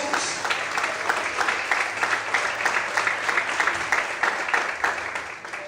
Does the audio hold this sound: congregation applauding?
yes